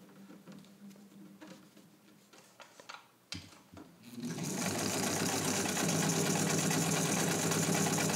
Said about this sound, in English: And I will start again here with a nice long straight stitch, which should show up pretty well on this.